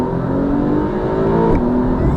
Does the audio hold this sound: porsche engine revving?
yes